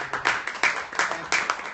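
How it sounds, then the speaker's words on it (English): A small audience applauding at an indie literature festival, a brief, sparse patter of a few people clapping with uneven bursts, close and moderately loud. "I'm asking them to clap for themselves"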